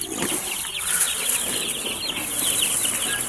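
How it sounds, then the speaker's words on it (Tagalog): A batch of young broiler chicks from a 100-head flock peeps densely and steadily, with bursts of wing flapping and rustling that carry on throughout at close range. "Pero bago yon, gigisingin muna natin yung mga sisiw."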